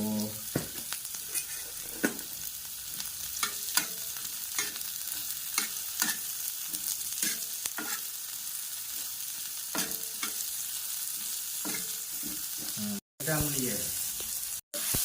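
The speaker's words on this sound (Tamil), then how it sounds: "வெங்காயம் நல்லா வதங்கும்." Onions with a little salt sauté in a pan for chilli chicken, giving a steady close sizzle throughout, broken by repeated scraping stir strokes at an uneven rhythm.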